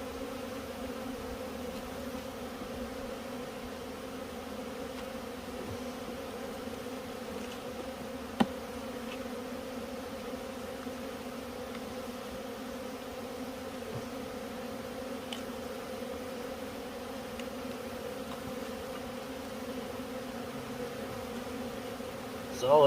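Honeybees in a colony buzz with a steady, dense hum during an October beehive check with pollen patty feeding, close and continuous throughout with no talking.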